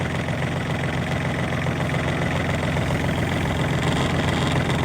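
A Honda mini tractor with a cab and air conditioning runs its engine at a steady idle, a continuous low rumble with even vibration, close and fairly loud throughout with no talk.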